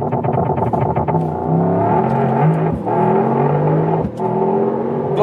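Mercedes-AMG GT 63 launching slightly uphill with race start in Sport Plus mode: a loud, close engine roar climbing steadily through the revs, broken by two brief dips at gear shifts, with no talk.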